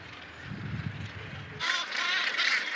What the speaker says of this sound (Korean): 어느새 새소리 가득한 곳에 도착하게 된다